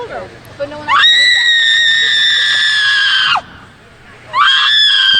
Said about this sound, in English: I don't think it's appropriate to have her screeching though.